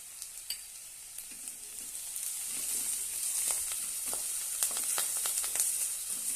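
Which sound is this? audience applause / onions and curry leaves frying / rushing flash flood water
onions and curry leaves frying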